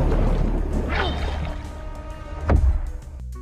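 Muffled underwater ambience from a Suicide Squad scene, with bubbling and a swooping tone, then a sharp metallic knife ring that sweeps briefly before fading into a low rumble.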